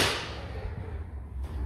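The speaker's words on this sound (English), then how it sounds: "that's a loud door" A loud door at a roof-access point in an old building slams shut with a sharp crack, its heavy thud ringing and rumbling away for over a second.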